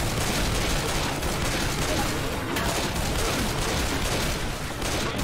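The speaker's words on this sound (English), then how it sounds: "I'm shooting him right now" Dense, continuous gunfire from the Left 4 Dead video game, a loud unbroken barrage of rapid shots filling the whole stretch with no pauses.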